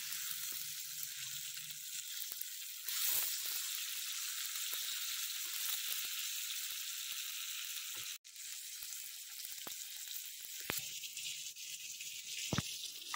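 Pomfret fish sizzles and fries steadily in a hot pan, a close, continuous crackling hiss with small pops and a brief shift partway through as the fish is turned.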